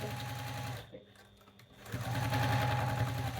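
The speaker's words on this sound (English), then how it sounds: "Sometimes it's good just to have just the sound of your sewing machine" A sewing machine stitching quilt pieces together hums and rattles at a steady pace, pausing briefly in the middle before starting up again louder.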